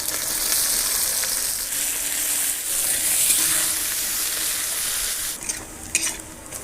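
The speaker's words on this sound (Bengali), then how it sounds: "এবার পেঁয়াজ দিয়ে দেবো।" Onions frying in hot oil for a crab curry hiss steadily in a pan, with stirring scrapes and clanks of a utensil joining in toward the end; close and fairly loud.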